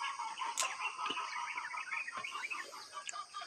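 A chicken clucking outdoors, with repeated short, bright clucks and chirps over a steady hiss of background noise, moderately close.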